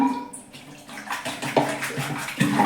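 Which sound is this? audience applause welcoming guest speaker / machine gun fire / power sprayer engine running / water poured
water poured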